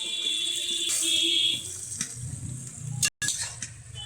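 Fish pieces drop into hot spice paste in a pan, bringing a close, steady sizzle with spoon clinks and a brief stir, loud and continuous after a bright hiss at the start.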